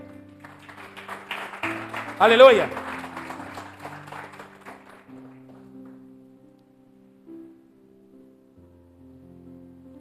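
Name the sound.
church congregation applauding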